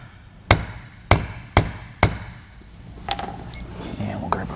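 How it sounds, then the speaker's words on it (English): Four sharp, evenly spaced hammer blows strike a hole punch set into a trailer door for a plastic-stem, rubber-socket door holder, close and loud, followed by softer clinks and handling noises with faint background voice. "let's go ahead and hammer that in a little bit."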